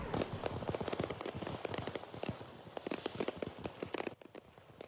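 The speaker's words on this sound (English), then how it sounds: "A trailer packed with fireworks caught fire" Fireworks crackle and pop in rapid, irregular bursts from a burning trailer packed with them on a Tennessee interstate, dense at first and thinning toward the end.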